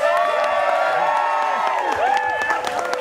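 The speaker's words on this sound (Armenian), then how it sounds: "արի բարձր բարձր ծափանենք այս հրաշալի զույգերի համար" Wedding guests at an Armenian reception clap and cheer loudly for the newlywed couple, a dense continuous burst of applause with whoops and shouts over music, close and full for the whole stretch.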